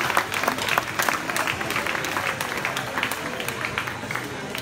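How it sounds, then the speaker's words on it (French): A crowd at a club's official 2018-2019 season team presentation applauds its handball players who also serve as referees, with dense, steady clapping that holds at an even loudness throughout. "Rien que pour ça, vous pouvez les applaudir"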